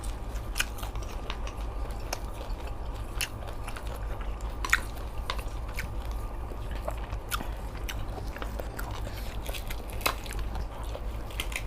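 Crispy fried salmon belly eaten with papaya salad, crunched in repeated close bites and chews, sharp crackly snaps at an uneven rhythm over a low steady background hum, with no talk.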